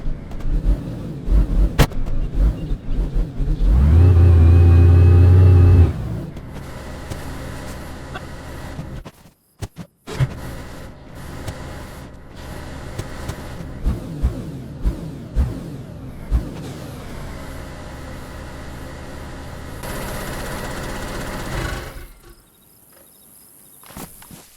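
A car engine in the survival game DayZ, a loud low rumble that rises as the vehicle drives off, then a quieter engine drone with crickets chirping, faint footsteps and scattered knocks until it cuts out near the end.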